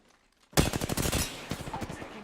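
Rapid bursts of automatic gunfire in a video game, loud and close, starting abruptly after a brief quiet and rattling on in a dense string of shots.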